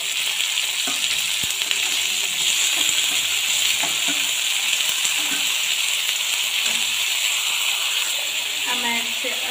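Grated onion frying in a pan for a dhaba-style egg curry, a steady bright sizzle throughout with faint stirring clicks and a voice speaking softly underneath.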